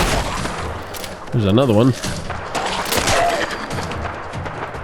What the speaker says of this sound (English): Fear my shotgun.